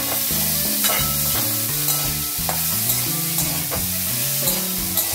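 Bitter gourd and mixed vegetables fry in a pan with a little turmeric, a steady close sizzle broken by repeated scraping stirs.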